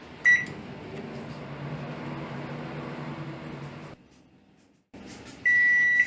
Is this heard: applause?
no